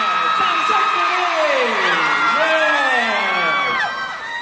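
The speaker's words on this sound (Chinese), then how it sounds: "掌声鼓励" Loud cheering and shouting from a crowd at a Taiwan new year fan party, with high whoops and excited voices rising and falling, applause mixed underneath throughout.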